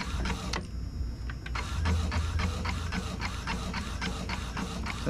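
An Epson L120 inkjet printer fitted with a replacement print head runs steadily, its carriage producing a series of rhythmic mechanical clicks and whirs close up, with no talking.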